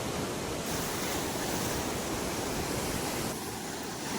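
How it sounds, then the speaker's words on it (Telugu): Large waves breaking on a beach during winter surf fishing, a continuous loud roar of surf and wash with no talk, steady throughout. "అలలు చాలా పెద్దగా అయితే వస్తున్నాయి"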